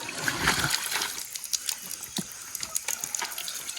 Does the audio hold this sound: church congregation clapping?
no